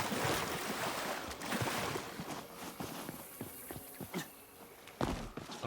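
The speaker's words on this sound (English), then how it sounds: "I'm gonna swim for it." Swimming through water in the video game Nightingale, with continuous splashing and sloshing strokes over a wash of surf-like noise and wind, fairly quiet and steady.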